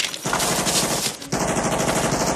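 Rapid machine gun fire in a Vietnam War film, a dense continuous burst that pauses briefly then resumes, loud and close with no talking.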